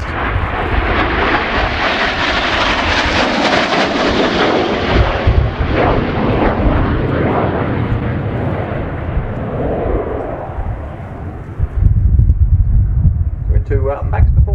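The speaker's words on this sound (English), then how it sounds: "aircraft entering at about 400 knots, not using much more than about 4G" A Spanish Navy EAV-8B Harrier II+ jet roars loud and continuous through a flying display turn, a broad rushing engine noise that slowly fades, with a fresh close rumble swelling near the end and a commentator talking over it.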